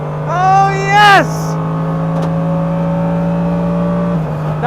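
A Mercedes-AMG GT3 race car at full throttle, its engine climbing to a high whine, dropping briefly at a shift, then holding a steady loud drone; a voice talks over it briefly.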